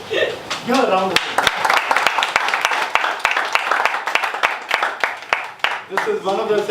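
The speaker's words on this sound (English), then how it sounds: "Give a round of applause." An audience at a lifelong learning session applauds with a loud, dense burst of clapping, sharp individual claps standing out throughout, with a voice briefly heard at the start and end.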